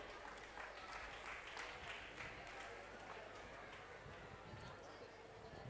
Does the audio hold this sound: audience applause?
yes